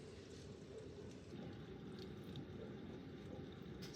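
Liquid is poured into a small measuring cocktail glass in a home kitchen, a steady, faint, continuous trickle lasting a few seconds with no talking.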